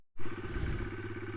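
A motorcycle engine starts up out of silence and settles into a loud, close, throbbing idle with a steady low pulsing rumble, no voices over it.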